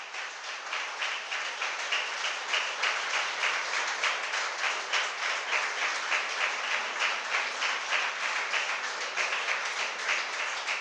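Steady applause from a congregation at a Jain sermon in Ahmedabad, continuous and even throughout, heard somewhat distant with a pulsing rhythm and no talking over it.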